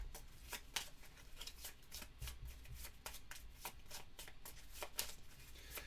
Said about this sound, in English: so we're going to do a quick shuffle here first.